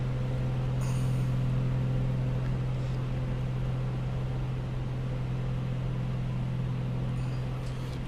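Aircraft engine drone in Prepar3D after the throttles are eased back, a steady loud hum with a strong low tone holding evenly throughout, with no talk over it.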